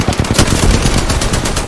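Rapid automatic gunfire in a battle-royale shooter game, loud and close, a dense unbroken burst of shots filling the whole moment with no pause.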